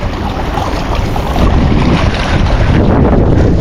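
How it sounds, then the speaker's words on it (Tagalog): Strong wind roars and buffets the microphone continuously, loud and unbroken, with faint water sounds underneath, while fishing for queenfish. "Kaso malakas yung hangin mga master."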